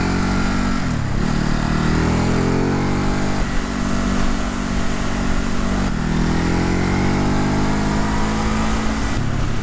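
A 2019 Ducati Hypermotard 950 motorcycle rides through corners, its engine droning loudly and steadily with rising and falling revs as it accelerates out of bends, close and continuous.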